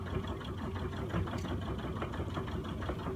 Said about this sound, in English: At this point, I'm in a fast idle, and I will be shifting down to a slow idle.